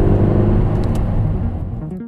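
A 2023 Volkswagen Golf R engine hums at a raised, steady idle of about 2,500 RPM on start, then quickly settles and fades toward quiet near the end.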